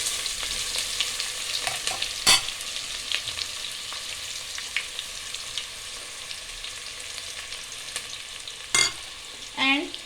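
Onions frying in a pan for masala rice while being stirred: a steady close sizzle with scraping stirs throughout and a few sharp knocks of the spoon against the pan, with no talking.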